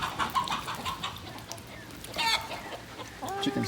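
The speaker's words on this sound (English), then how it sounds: "Chickens chasing each other out there." Chickens on a ranch clucking and squawking outdoors in repeated short bursts, with a louder flurry near the end as they chase each other, no talking.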